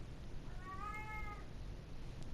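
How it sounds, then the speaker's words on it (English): A single drawn-out cat meow rises and falls once, fairly close but soft, over a quiet indoor background with no talking. "Sorry, cat's being annoying."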